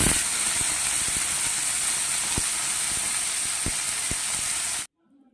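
Potatoes, onion and green chili sizzling steadily in hot oil, a loud continuous hiss with occasional clicks of stirring, cutting off abruptly near the end.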